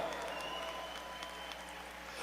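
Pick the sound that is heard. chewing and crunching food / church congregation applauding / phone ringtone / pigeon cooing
church congregation applauding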